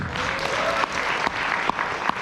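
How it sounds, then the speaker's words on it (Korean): Applause from an audience at a business seminar in a resort hall, a continuous patter of many hands clapping at moderate volume, with a few sharper claps standing out. "박수 한번 치십시오"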